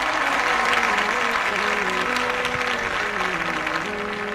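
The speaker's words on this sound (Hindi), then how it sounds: "सभी जन जोरदार तालियों के साथ" A church congregation at a Hindi-language morning prayer service applauds loudly, dense sustained clapping close and full throughout, with a faint sung or spoken tone underneath.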